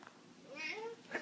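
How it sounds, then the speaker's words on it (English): A cat gives one short, quiet, rising meow close by in a calm room. "Meow."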